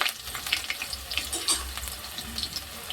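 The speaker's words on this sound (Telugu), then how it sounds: "ఇప్పుడు దాంట్లోకి మనం ఆనియన్ ముక్కలు వేస్తున్నానండి." Onion pieces frying in hot oil in a pot for boti curry, a faint, even crackling sizzle with a few brief stirring scrapes, no voices.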